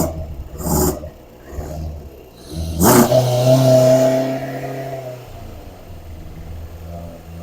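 A cold-started Kawasaki ZZR600 motorcycle engine, choke off, revs up in two loud close blips, the second rising into a sustained roar for about two seconds before dropping back to a low idle burble.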